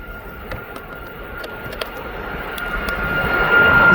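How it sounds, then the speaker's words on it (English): Jet airliner on final approach to land at East Midlands Airport, a steady broad engine roar with a thin whine that slowly grows louder as the aircraft nears. "Now just coming into land. It's coming in right behind that Ryanair to Alicante."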